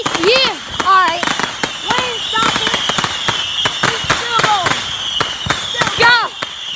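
Firecrackers and fireworks going off in quick succession, sharp loud bangs and crackles with whistling squeals mixed in, while people shout and talk over the noise.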